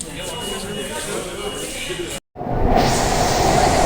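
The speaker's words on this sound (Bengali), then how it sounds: "বন্ধুরা আমরা হাওড়া নতুন মেট্রোতে চেপেছি" Rumbling interior of a new underwater metro train in Howrah, a steady loud drone that cuts out briefly mid-ride, then returns stronger with a brighter whine as the train moves.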